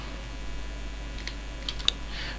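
A line of code is typed on a computer keyboard, with soft scattered keystrokes and one sharper click over a steady low hum, close and faint.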